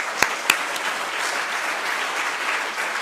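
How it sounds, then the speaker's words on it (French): A conference audience breaks into steady applause, a dense, moderately loud patter of clapping hands that carries on evenly, with a couple of sharp, louder claps near the start. "Bravo, on peut les applaudir, bravo."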